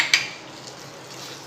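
Spoon scraping and clinking in a pan while turmeric and garam masala are stirred into pav bhaji, one sharp metallic clink at the start followed by quieter stirring.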